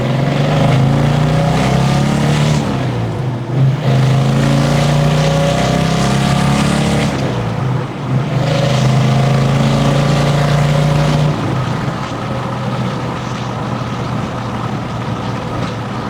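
A 1967 Dodge Charger engine revving in first gear, a loud, close, throaty drone that rises and falls through several rev cycles before settling into a steadier tone.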